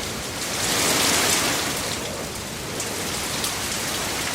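Heavy rain pouring down in a dense, steady hiss of drops striking surfaces, loud and continuous with no other sounds.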